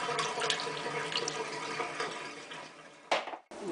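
Potatoes are rinsed under running water to wash off starch, giving close splashing and gushing from a tap that thins out, then cuts off sharply before resuming briefly.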